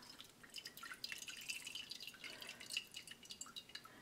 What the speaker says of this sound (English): And then you just pour it all through this layer of cheesecloth,